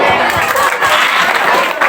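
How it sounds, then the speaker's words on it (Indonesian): Audience at a Maulid Nabi religious gathering applauding, a dense loud burst of clapping from many hands with crowd murmur mixed in. "Tepuk tangan dulu."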